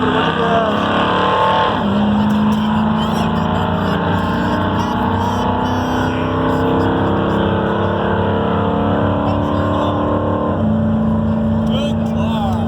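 A drag car revs hard at the Roadkill Ziptie Drags 2020 event. Its loud, sustained engine roar rises and drops in pitch twice as the throttle changes, and it fills the whole stretch up close.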